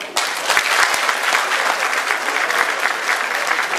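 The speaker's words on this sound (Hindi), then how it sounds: "जरा ताली।" Concert audience at a show in Sydney, Australia breaks into loud, sustained applause, a dense wash of many hands clapping steadily from start to finish with no voices on top.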